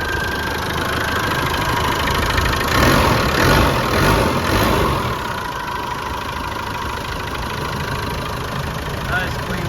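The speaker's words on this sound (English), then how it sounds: "Real smooth running motor." A 1995 Land Rover Defender 110 camper with a 300tdi diesel engine idles close by: a steady, even rumble and clatter that swells slightly for a couple of seconds, then settles back to a smooth, constant beat.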